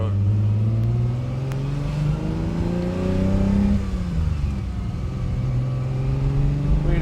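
A 1967 Ferrari 330 GTC accelerates on a farm road, shifting up through the gears. Its engine note climbs, drops at each shift, then climbs again, loud and close throughout.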